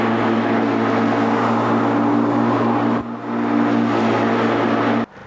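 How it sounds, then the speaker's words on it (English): A rotary lawnmower motor drones steadily with a strong hum as the machine is spun round, dipping briefly once before cutting off near the end. "keep the motor going, spin the machine round in the opposite direction quite quickly"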